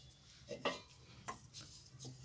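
Moong dal halva stirred in a pan, with a spoon scraping and clinking against the metal in a few short, quiet strokes, close by with no talk.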